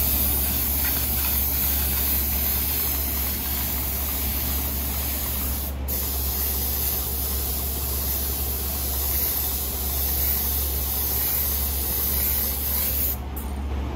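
A spray gun lays a coat of cobalt candy paint on a lowrider's custom paint job, giving a loud, continuous close-up hiss that runs steadily the whole time.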